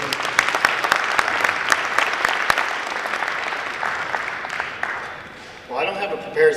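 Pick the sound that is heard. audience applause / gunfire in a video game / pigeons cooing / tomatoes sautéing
audience applause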